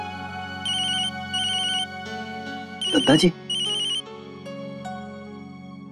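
A telephone ringtone plays in repeated electronic bursts of bright tones over a sustained background tone, with a brief noisy clatter in the middle and someone speaking briefly.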